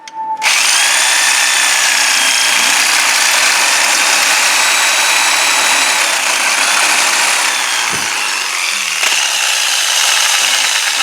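A power tool roars continuously at close range, a loud, steady high-pitched grinding whine that wavers slightly and keeps going as it cuts off a ball joint on a 1996 GMC Jimmy, with no talking.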